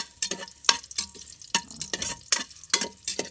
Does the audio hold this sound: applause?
no